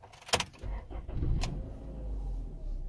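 A high-mileage 1999 Honda Accord with a manual transmission starts up: a couple of sharp clicks, a brief cranking whir, then the engine catches and settles into a steady low rumble close by.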